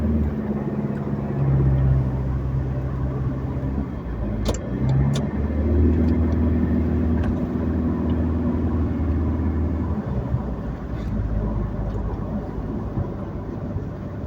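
Road traffic near the NAIA Terminal 3 exit toll plaza, a steady rumble of passing cars and engines with occasional louder vehicles going by, continuous and fairly close, with no talking.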